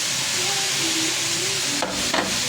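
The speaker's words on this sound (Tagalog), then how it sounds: "So pwede na natin ilagay yung siling haba at yung labuyo" Long green chilies and bird's eye chilies tossed into chicken already frying in a pan, giving a steady close sizzle and hiss with a brief stirring clatter near the end.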